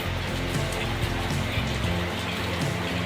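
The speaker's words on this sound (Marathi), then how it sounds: "पाऊस तर खूप येत आहे मित्रांनो" Heavy rain falls in a steady, dense patter, continuous and fairly loud, with a low rumbling undertone and no talk over it.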